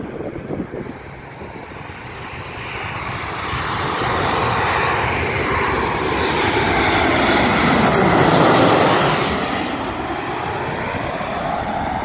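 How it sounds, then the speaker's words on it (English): A WestJet airliner lines up on the runway, its engines rumbling and whining as the sound swells and peaks near the end, fairly close and loud with no voices. "WestJet is lining up with the runway"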